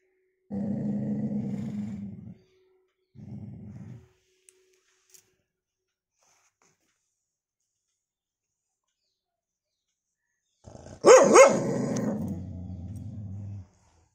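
A dog gives low growls in two short bursts, then after a pause lets out a sharp bark followed by a rumbling growl.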